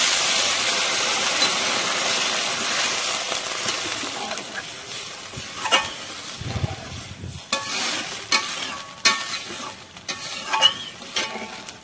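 Water is poured into a pan of fried potatoes, eggs and spices for an egg curry, and the pan sizzles loudly before settling into softer bubbling. A spoon stirs and knocks against the pan in irregular bursts, close by.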